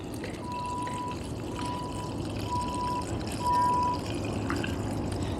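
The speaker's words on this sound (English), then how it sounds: "Okay, so I'm gonna put some screen wash in." Screen wash pours in a steady stream into a car's windscreen washer reservoir while the car is prepared for a trip, a constant liquid rush with faint outdoor background and no talk.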